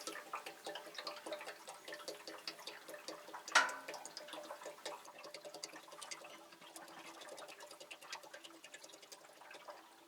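Hydraulic fluid poured straight from a container without a funnel into a machine's reservoir, a thin steady liquid trickle and splash with faint ticking drips, one sharper clunk near the start, no talking.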